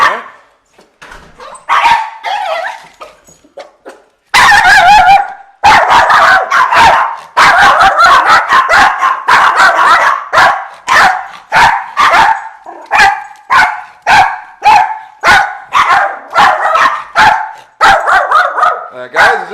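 Chihuahuas bark aggressively and incessantly at a visitor arriving at a South Carolina home, a rapid stream of sharp, loud yaps close by with brief pauses, and a voice is faintly heard early on.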